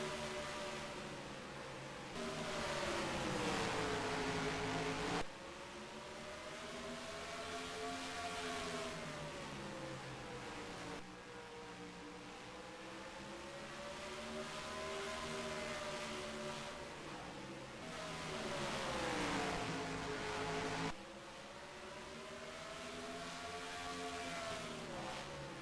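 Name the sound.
race cars on speedway track, car downshifting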